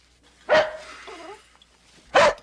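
A dog barks loudly twice, with a short whining whimper between the sharp, close barks.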